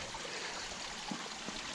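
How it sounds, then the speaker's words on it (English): Forest stream water running steadily, a soft continuous rushing trickle heard close by with no voices. "Nice running water"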